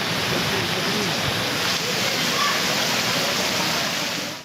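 Heavy rain pouring down in Shikarpur, a dense, continuous roaring wash of water at steady loudness throughout, with no voices heard.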